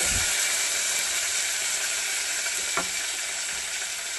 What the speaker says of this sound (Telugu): పచ్చిమిర్చి వేసుకొని ఫ్రై చేసుకుందామండి